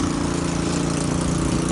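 A motorcycle engine runs steadily nearby on a flooded street in Parañaque after a typhoon. It gives a loud, continuous droning hum with a low pulsing rhythm and no voices.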